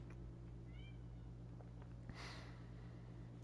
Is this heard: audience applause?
no